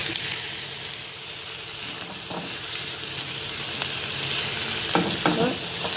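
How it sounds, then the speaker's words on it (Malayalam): Tomato paste sautéing in a pan for a shrimp biryani, a steady close sizzle and fry with stirring scrapes and a few clinks of the spoon, no voices. "ഇത് തക്കാളി നന്നായിട്ട് പേസ്റ്റ് ആകുന്ന വരെ വഴറ്റുക"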